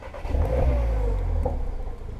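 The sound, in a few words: VW Polo GTI engine with resonator delete on cold start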